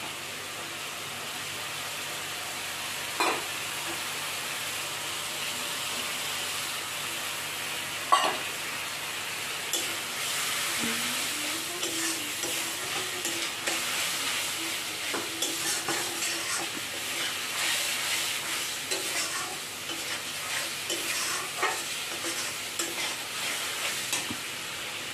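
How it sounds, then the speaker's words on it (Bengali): Masala for chilli paneer being fried and stirred in a pan, a long steady sizzle with a few sharp clanks early and busier scraping and stirring in the second half, close and without talk. "ভালো করে মশলাটা কষাতে হবে।"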